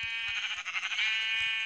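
Video-game sheep gives a series of bright, harmonic bleats, close and fairly loud, running almost continuously across the short stretch with no talk over it.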